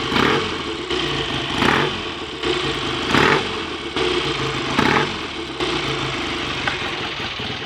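A freshly rebuilt BSA A65 Lightning motorcycle engine runs close by at a lumpy idle, its steady throb broken by regular louder blips roughly every second and a half, with no voices.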